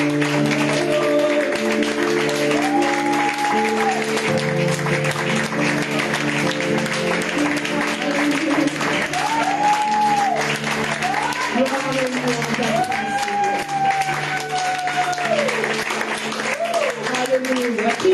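A church congregation at a French-language seminar applauds and cheers in worship, with continuous clapping running underneath loud voices and sustained singing that carry through the whole passage.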